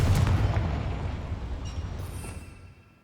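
A Confringo fire spell in Hogwarts Legacy detonates in a deep, booming blast that opens loud and then rumbles and fades away over a few seconds, with no talking over it.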